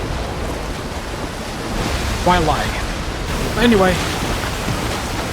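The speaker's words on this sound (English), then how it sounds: "the water is finally pouring on the muck" In Zelda: Tears of the Kingdom, water pours onto muck with a steady, loud, rushing wash that fills the whole stretch while someone talks over it.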